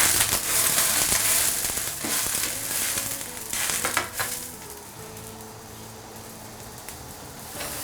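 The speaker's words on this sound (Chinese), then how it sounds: "我们焯一下蔬菜粒，有点玉米、青豆和这个胡萝卜，" Corn, green peas and diced carrot blanch in salted, lightly oiled boiling water in a wok, a steady loud hiss and bubbling that eases off toward the end, with no talking.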